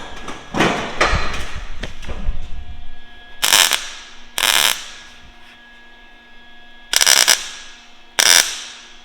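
Welding on the new steel cowl of a Porsche 356 Speedster under restoration in a shop: several short, loud crackling bursts of about half a second each, spaced irregularly over a low background hum.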